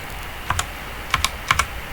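Several quick clacks on a computer keyboard while working in Microsoft Excel, arriving as three paired key presses spaced evenly apart, close by over a steady hiss.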